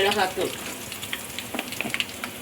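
Spices sizzle in hot oil with a steady crackle and scattered small pops, close up.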